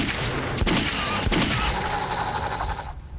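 Gunfire in the video game Metro 2033, a few sharp shots ringing out in quick succession, loud and close over a noisy backdrop, then tailing off into a fading echo.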